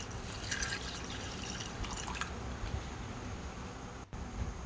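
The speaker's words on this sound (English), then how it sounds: "now I'm placing the apples and added some more mineral water." Mineral water pours and drips over apples in a container, a faint continuous trickle and splash with scattered small drips, close by and without speech.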